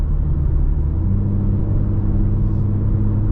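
A 2023 BMW M3 Competition xDrive driven at normal speed, heard from inside: a steady low engine and road rumble with a deep hum, constant and fairly loud, with no voices.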